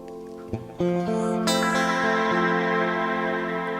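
A sustained electric guitar chord swells into a lush, echoing wash from a Plex delay, with repeating delays and a sweeping wah-filtered tone, loud and close with no voices.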